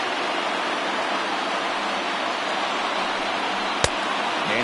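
A packed baseball stadium crowd of over 39,000 roars on its feet, a steady dense wash of cheering with a brief sharp crack near the end.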